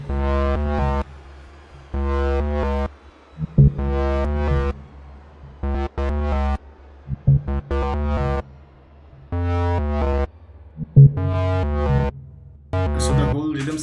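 Tech house bass section with effects, played as repeated punchy bass-heavy phrases in a steady pulsing rhythm, loud and alone with short gaps between bars.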